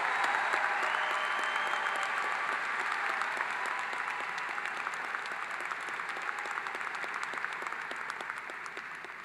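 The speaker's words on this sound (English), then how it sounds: "How about another round of applause for our newest master's degree recipients?" Sustained applause from a large graduation ceremony crowd honoring new master's degree recipients, a broad even wash of clapping in a big hall that slowly fades.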